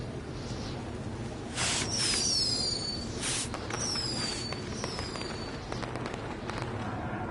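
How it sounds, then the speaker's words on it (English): Fireworks are set off as signal flares, whistling upward several times before bursting with sharp, crackling bangs, a few launches spread over several seconds at moderate distance. "we'll get to see some cool fireworks"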